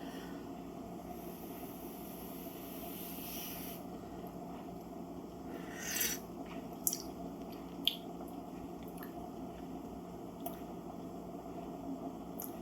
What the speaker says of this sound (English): Let me mix this around.